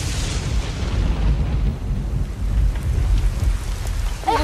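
Heavy rain pours steadily on surfaces while thunder rumbles low and close, a dense, continuous storm with no voices.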